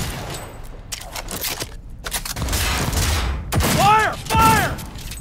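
Rapid gunfire in a Cyberpunk 2077 firefight crackles in dense bursts, with loud shouting voices cutting over the shots.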